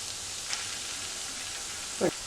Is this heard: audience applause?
no